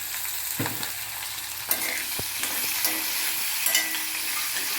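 Chopped onion pieces salted and frying in a pan give a steady, loud sizzle throughout, with a few utensil scrapes and knocks from stirring.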